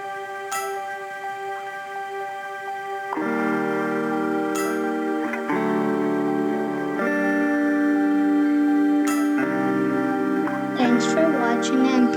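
Uploaded song playing in a Scratch platformer game, a melodic tune with sustained tones and bright chimes that grows fuller partway through, moderately loud and heard alone.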